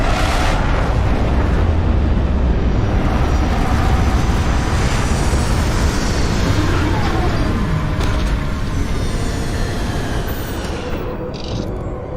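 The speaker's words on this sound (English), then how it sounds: "Landing struts primed. Retros fired." Retro rockets firing as a spaceship lands in Starfield, a loud, continuous roaring rumble that holds steady for many seconds and eases slightly at the end.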